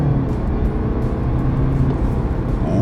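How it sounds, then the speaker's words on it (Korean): A BMW 320d diesel accelerating hard in sport mode, heard as a loud, steady low engine drone with road rumble from inside the car, building slightly toward the end. "스포츠 모드에서 급가속."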